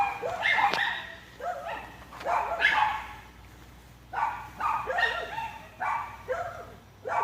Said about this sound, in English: We still have the barking dogs.